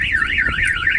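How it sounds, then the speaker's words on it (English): A Ram 1500 pickup's car alarm sounds loud and close, a continuous warbling siren that sweeps steadily up and down in pitch throughout. "That will fire off the alarm."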